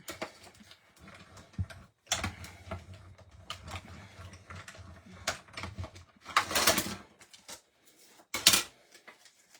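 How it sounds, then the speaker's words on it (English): Tapping and clacking from a die cut machine cutting a paper ice cream cone shape during small gift box papercraft, with bursts of mechanical clatter and brief louder hits near the end, no voices. "since we have the die cut machine out, let's go ahead and cut out that ice cream cone"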